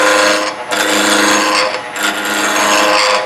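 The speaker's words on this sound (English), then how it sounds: "Now that's a spindle roughing gouge." A spindle roughing gouge cuts wood on a lathe in a steady, loud, continuous rasping scrape, with two brief dips where the tool lifts off the spinning workpiece and then bites back in.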